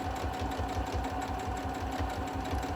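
A sewing machine runs steadily, stitching the two folded edges of a tote bag together with a French seam, its motor whirring in a continuous, even buzz with a rapid needle rhythm throughout.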